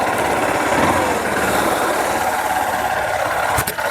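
Close up, a Honda Unicorn motorcycle idles with an even, buzzing drone that holds steady throughout, ending in a short clatter near the finish.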